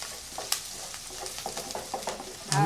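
Onion sputtering in ghee with cumin seeds, a soft crackling sizzle broken by irregular stirring scrapes and taps, close by, ending in a louder burst of hiss as more goes into the pan.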